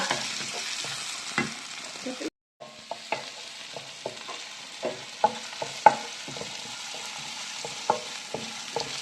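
Garlic sautés in a pan for a vegetable rice dish, giving a steady close sizzle broken by scattered clicks and scrapes as it is stirred, with one brief dropout.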